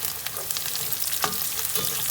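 Chili stir-frying in a pan for nasi mandy ayam, a loud close continuous sizzle with scattered crackles and the scrape of stirring throughout.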